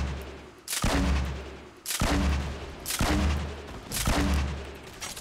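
Video game gunfire in a battle royale match: four loud, close bursts of rapid shots, each lasting about a second, spaced roughly one second apart, with no talking.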